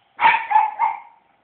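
A pug barking at a balloon indoors: three quick, sharp, high yappy barks close to the listener, followed by silence.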